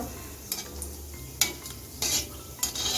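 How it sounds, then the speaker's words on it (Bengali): White cumin seeds dropped into hot oil for a tempering, with a steady low sizzle and a few sharp clinks and scrapes of a spoon against the pan at irregular intervals, close up with no talking. "এখন ফোড়নে সাদা জিরে দিয়ে দিচ্ছি জিরেটা একটু বেজে নিচ্ছি"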